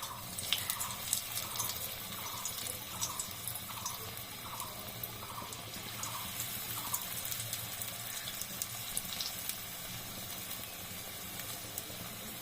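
Gima greens fritters fry in hot oil, a faint, continuous crackling sizzle with fine pops, close by and without talking, while a soft repeating chime-like tone sounds in the background early on.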